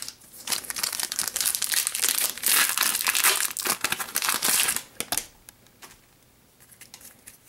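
Crinkly plastic wrapper of a Weiss Schwarz SAO Ordinal Scale card pack being torn and crumpled up close, a dense burst of crackling for about five seconds that then thins into a few scattered rustles.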